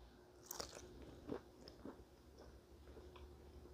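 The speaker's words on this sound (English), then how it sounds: "Let's take a bite." A bite into a brown sugar St. Louis style pork rib cooked on a Ninja Foodi Grill, with a few soft, moist crunching and chewing sounds up close, quiet and alone.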